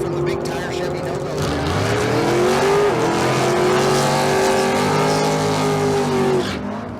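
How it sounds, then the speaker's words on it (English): Drag race launch at a Las Vegas street car event, with a big-tire Chevy Nova and a Maverick on the starting line: a loud, sustained engine roar rising in pitch for several seconds, then cutting off abruptly near the end. "I dig the wheels up action from the big tire Chevy Nova"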